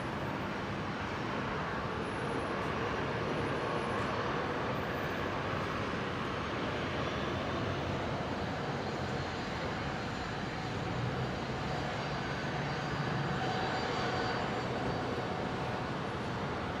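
Military aircraft taxi at Brisbane Airport, heard as a faint, steady engine drone carried from a distance over several seconds, with a distant hum of traffic underneath.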